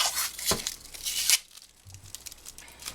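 Tape is torn off the roll in short ripping bursts to hold tin foil layers on Honda VFR fork parts, two or three sharp tears with faint crinkling and quiet gaps between them.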